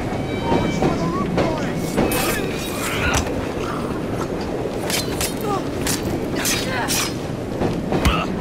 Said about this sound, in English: Train from this bridge.